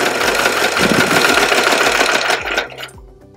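A serger sewing machine stitches a fabric snack bag, its loud, fast whirring running steadily for nearly three seconds before slowing and stopping near the end.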